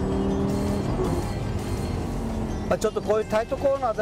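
Lamborghini Gallardo LP560-4, a 2009 all-wheel-drive car, driven on a racing circuit, its engine a steady loud drone from inside the cabin while someone talks over it through the second half.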